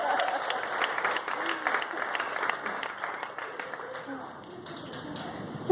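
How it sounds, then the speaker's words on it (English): An audience gives a round of applause for storytellers at a talk, with dense, fairly close clapping that holds steady for several seconds and then starts to thin out, while a voice speaks over it. "let's give them a round of applause"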